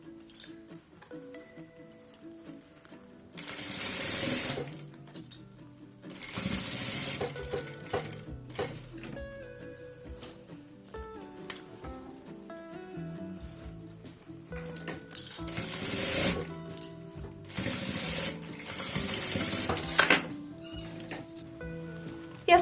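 A sewing machine stitches a fabric box pencil case with four pockets, running in bursts of rapid mechanical whirring separated by pauses, with faint clinks and handling noises in between.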